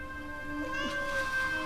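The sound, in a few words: cat meowing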